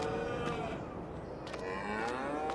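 Cattle moo in a Farming Simulator 22 barn built to hold 35 cows on the Hallig Petrus farm map. The long, wavering lowing calls overlap steadily against a constant farmyard background.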